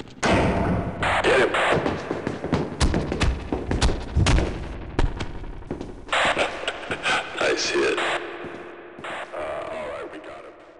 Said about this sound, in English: I tried to use my grenade launcher there.